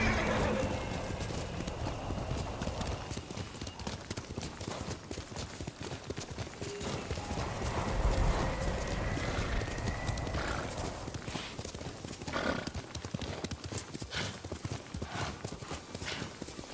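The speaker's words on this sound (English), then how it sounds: "Good horse, Kage." Steady clip-clop of a horse's hooves at a brisk trot in the video game Ghost of Tsushima, close and continuous, with the horse whinnying partway through over a busy outdoor background.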